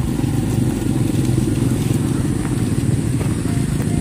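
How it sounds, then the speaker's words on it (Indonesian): A motorcycle engine runs steadily on a village road deep in the Sumedang forest, a loud, continuous low rumble that holds without a break for the whole stretch. "kalau ke sini mah harus menggunakan motor-motor khusus"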